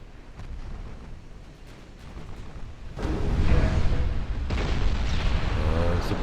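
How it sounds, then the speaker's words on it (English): Torpedo hits exploding on warships in a naval strategy game: two deep, rumbling booms arrive about a second and a half apart, each swelling into a sustained roar that stays loud, with no speech. "I think we're gonna get some torpedo hits out of that."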